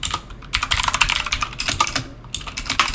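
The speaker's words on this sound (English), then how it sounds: "Here we can just type the location." Rapid, uneven clicking of keys on a computer keyboard, close and fairly loud, with short pauses between runs of keystrokes and no voices.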